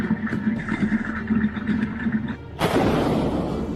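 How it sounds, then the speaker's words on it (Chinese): Shells from a Type 055 destroyer's main gun land far out at sea, a distant rumbling boom heard out on the water, followed by a sudden loud broadband roar that fills the last second. "我现在已经能够听到海上已经冒出了水柱，我能够听到轰的声音"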